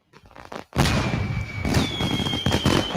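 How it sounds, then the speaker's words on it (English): Fireworks go off in a loud volley of pops and crackles, sharp bursts following each other with a whistling streak running through, heard up close with no talk over them. "There's your fireworks."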